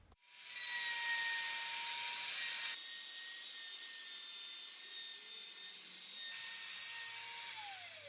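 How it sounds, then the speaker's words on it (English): Wood router spinning a 9mm bit as it cuts a mortise into an inside panel of a wooden bread box, a loud steady high whine that shifts in pitch as the cut loads and eases, continuous throughout. "I will create a mortise, once again using a"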